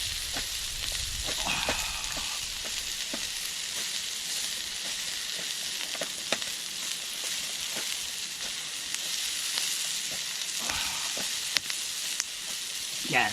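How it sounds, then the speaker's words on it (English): Onions frying in a Trangia camping pan give a steady, loud sizzle and hiss, with occasional scrapes and clicks from stirring throughout. "give it another wee stir. We'll try to soften these onions a wee bit."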